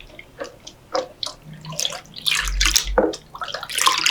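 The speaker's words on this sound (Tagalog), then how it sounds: "Haluin lang natin at tunawin" Sugar stirred into water with evaporated milk in a container at close range, with uneven swishing and splashing bursts and a low hum underneath; no one speaks.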